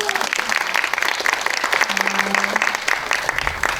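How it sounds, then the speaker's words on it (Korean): Cinema audience applause at a film Q&A with actors, a steady wash of many hands clapping under a host's amplified voice. "박수 한번 다시 부탁드립니다."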